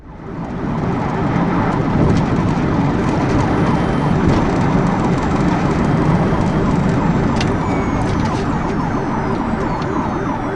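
A police cruiser's siren wails steadily and loudly during a high-speed pursuit of a fleeing gray Nissan Altima, with road and engine noise blended in throughout.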